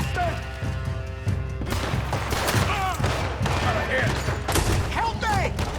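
Gunfire in Red Dead Redemption 2 crackles as a dense, continuous volley of shots with thuds and booms, mixed with shouting voices and music through the whole stretch.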